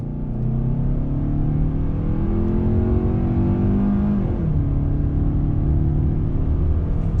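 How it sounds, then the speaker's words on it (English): A 2021 Hyundai Santa Fe SE midsize SUV accelerating in Sport mode, its engine droning steadily from inside the cabin, the pitch climbing and then dropping sharply as the transmission downshifts, followed by a sustained higher rev hold. "you can hear the transmission drop down"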